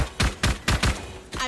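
Pistol gunfire in the video game Valorant during a 2022 Champions esports match, four sharp close shots fired in a quick, slightly irregular burst, followed by a fainter clatter, with no talk over them.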